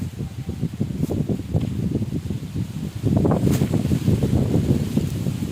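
Strong wind gusts batter the microphone outdoors in a farm field, a loud continuous rumbling roar that surges midway.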